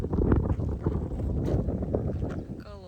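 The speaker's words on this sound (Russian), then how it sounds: "Сейчас здесь такой ветер сильный." Strong wind buffets the microphone at a roadside stop with food stands and a toilet on the way to the Bayanaul recreation area, a loud rough roar that gusts unevenly throughout.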